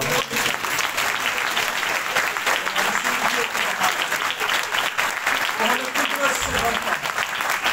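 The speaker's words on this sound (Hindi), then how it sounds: "यीशु मसीह के लिए तालियां बजाएं।" A church congregation claps steadily at a Christmas Day service, dense applause running throughout at a fairly even level, with a voice faintly present underneath.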